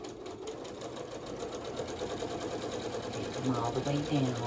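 A sewing machine runs steadily, back stitching braided twist placemats with a continuous close whirring hum that strengthens toward the end, while a person talks over it.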